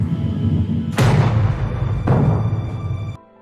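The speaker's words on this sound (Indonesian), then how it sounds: "Mendengar bunyi ledakan" A balloon bursting under high air pressure: two loud, sudden bangs about a second apart, each with a long decaying roar, over steady background noise that cuts off at the end.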